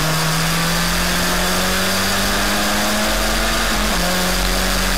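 Historic Formula Ford racing car engines drone steadily at Snetterton, a loud continuous buzz with a slowly rising pitch and a brief dip near the end.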